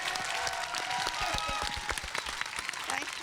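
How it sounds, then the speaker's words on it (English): A convention panel audience applauds, a dense wash of clapping that holds steady for a few seconds. "can we get a big round of applause for our amazing host?"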